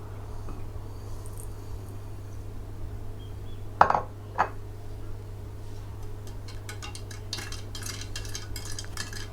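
Spoon stirring sugar into a strawberry milkshake mixture, giving a couple of brief clinks against the bowl midway over a steady low hum, with faint scraping afterwards.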